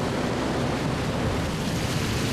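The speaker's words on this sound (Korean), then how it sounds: "갑자기 파도가 매섭게 몰아칩니다" Rough sea waves crash and churn against a small fishing boat in strong wind, a loud unbroken rush of surf and wind noise with no pauses.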